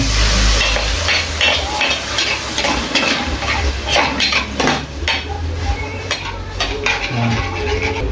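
A utensil scrapes and clanks against a pan while garlic and mushrooms are stirred, a steady run of metallic strokes over faint sizzling.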